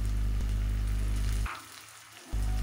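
Spice paste with a splash of water stir-fried over medium heat in a pan: a dense, loud sizzle that drops away for under a second, then surges back, with no speech.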